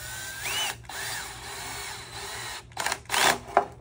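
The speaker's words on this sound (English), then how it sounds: "Be very careful if you're going to use an electric drill. I have it on the lowest setting." An electric drill on its lowest setting drives screws into front lip splitter parts on a Toyota Corolla, with several short whirring bursts of rising and falling pitch, close by and without talk.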